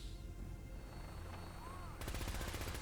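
Quiet, muffled sound from Fallout 4 becomes a rapid rattling burst of automatic gunfire near the end, sharp repeated shots over a low rumbling background with faint talk.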